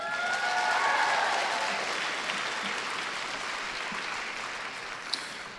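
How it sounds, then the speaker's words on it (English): An audience at a White House forum applauds, a broad, steady roar of clapping that starts strong and slowly tapers off, with no speech over it. "can you just give ourselves a round of applause?"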